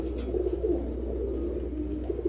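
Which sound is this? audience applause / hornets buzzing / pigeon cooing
pigeon cooing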